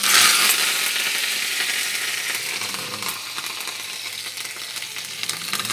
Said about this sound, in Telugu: నేను కొద్దిగా జీలకర్ర ఆవాలు వేసి ఇది తాలింపు పెడుతున్నాను